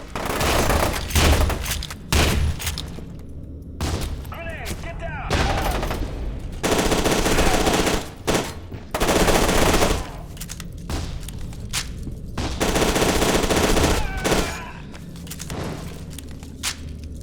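Loud shotgun blasts from the shooter game FEAR 2 come in bursts among heavy in-game gunfire, with booms and crashes overlapping and brief quieter gaps between volleys.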